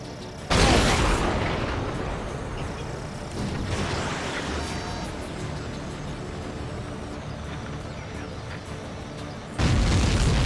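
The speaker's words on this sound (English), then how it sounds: "Did you see that explosion? Looks like that's one of them down." A supply ship blows up in the aerial combat game Ace Combat 7: a loud, close booming blast opens, trails off into a long rumbling roar, and a second heavy burst hits near the end.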